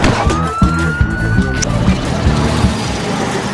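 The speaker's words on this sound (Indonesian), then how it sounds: "Karena mendengar suara sirine" Police siren wailing in a gangster film scene, a loud rising tone over busy background noise and a brief sharp impact.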